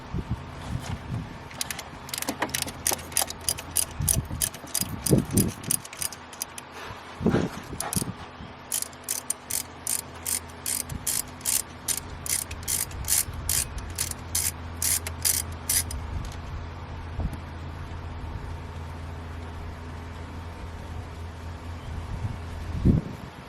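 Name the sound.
wrench loosening alternator bolts on 2007 Saturn Ion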